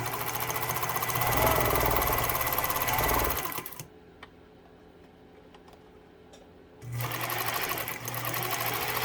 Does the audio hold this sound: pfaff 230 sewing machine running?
yes